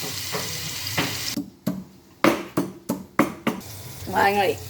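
Crushed garlic dropped into hot masala in a pan, sizzling and frying with a series of sharp scraping stirs, close and distinct, with speech near the end.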